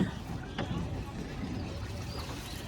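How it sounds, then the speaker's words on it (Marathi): A private rowed boat moves on the river at Triveni Sangam in Prayagraj, water lapping and wind noise forming a steady, close wash while people talk nearby. "अशा प्रकारे बोटीला त्याने दिशा द्यायला सुरुवात केलेली आहे."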